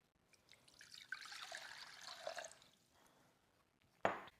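Two cups of water trickle and splash into a small pot for a few seconds, quiet and close, then a single bright clink sounds.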